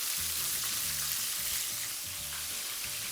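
Chicken wings fry in hot oil in a pan, a loud, dense, continuous sizzle and crackle that fills the whole stretch without any talking.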